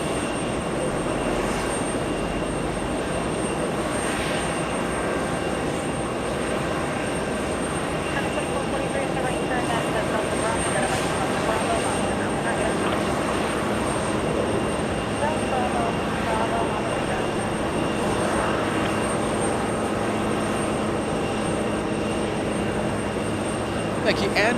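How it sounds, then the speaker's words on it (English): Aircraft auxiliary power unit running for ground operations at JFK airport, a continuous steady engine whine and hum with wind noise, constant and fairly close throughout, with faint talk beneath. "That engine sound is the APU for ground operations."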